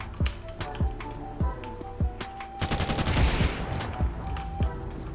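Gunfire in a PC shooter game running at high frame rates: a series of sharp single shots at irregular intervals, then a dense burst of rapid automatic fire in the middle, fairly close and loud, with no talking.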